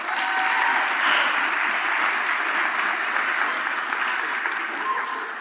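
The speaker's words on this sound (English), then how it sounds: "Oh, give yourselves a round of applause." Steady audience applause at a keynote on improvisational leadership, a dense wash of clapping from a crowd that holds fairly even for several seconds and tapers slightly at the end, with no voices over it.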